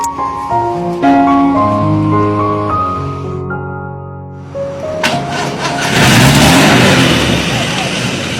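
An angkot minibus engine as the vehicle is pulled over to the roadside: tonal revs that drop in pitch and fade, then a louder rough rumble as the engine surges again, with voices mixed in.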